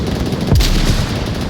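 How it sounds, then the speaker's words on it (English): A single heavy gunshot boom in a VR multiplayer shooter match, loud and brief against a dense rumbling background of game noise. "Ratman taking shots, I think, at Messler."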